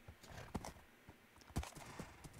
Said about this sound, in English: Got some community horses over here, so I'm gonna jump on this one.